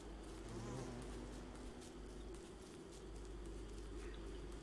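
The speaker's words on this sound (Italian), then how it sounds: "Sempre l'ape qua." A bee in the video game Don't Starve buzzes continuously at close range, a steady droning whine with slight wavering pitch, fairly quiet and heard alone without talk.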